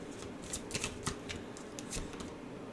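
Tarot card deck being shuffled by hand, a quiet close run of quick crisp riffling flicks and taps with no voice over it.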